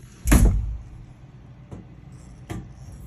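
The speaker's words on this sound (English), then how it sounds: "Let me just close this door, get it locked up." A basement door swings shut with a solid, low thud, followed a second later by a sharp lock click and another brief latch snap, all close by in a quiet room.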